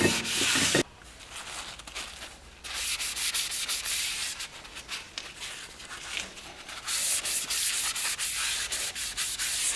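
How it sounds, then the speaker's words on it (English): Close hissing spray of brake cleaner onto a Subaru brake rotor, coming in several sustained bursts separated by brief pauses, with no talk. "always clean your rotors with some brake cleaner"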